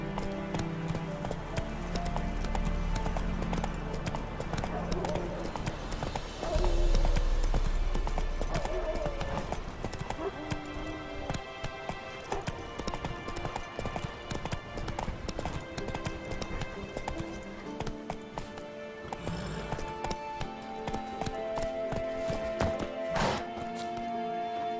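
Horse hooves clip-clopping steadily in The Witcher 3, a continuous rhythmic trot over a bed of game music, with occasional snorts and thuds.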